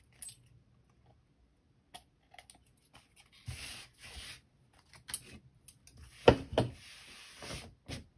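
Scissors trim a small paper craft tag for a woodland nest design: sparse, quiet snips and light clicks spread over several seconds, with a few slightly louder cuts near the end and no voices.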